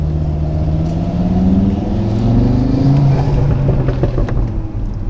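An Audi RS3 with aftermarket exhaust, intake and coilovers pulls away and accelerates, its engine note rising through the revs, loud and close from inside the car, with a deep exhaust rumble.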